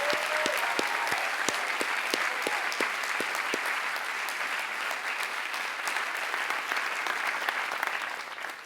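Warm, sustained applause from a large audience fills a graduate business school diploma ceremony hall, dense clapping that stays steady before tapering off at the end.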